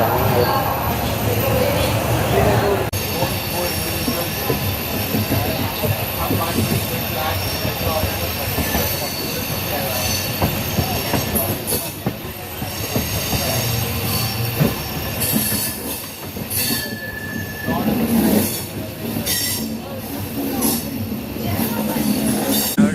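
Amrit Bharat Express train running on rails between Challapalli and Tenali, heard from inside with a loud continuous rumble, rattling wheels and high metallic squeals, while a person talks over the noise.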